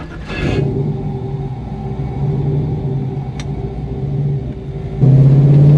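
A 1970 Ford Boss 429 Mustang restomod idling with a deep, steady rumble up close, then the engine note rising louder near the end as it revs.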